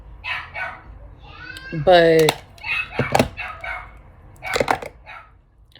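A dog barks and yips nearby in short bursts, with a whiny rising bark in the middle, heard under and between a person talking indoors.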